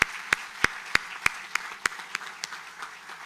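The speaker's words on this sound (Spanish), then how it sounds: "acá merece un aplauso el señor alcalde Santiago" A municipal ceremony audience in Sabaneta, Colombia, claps for the mayor in a steady unison rhythm of about ten sharp claps that gradually soften and blur, heard alone without talk.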